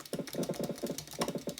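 Quick, rhythmic clacking of keys on a computer keyboard, a steady run of close, crisp strokes with small bursts, heard alone without any voices.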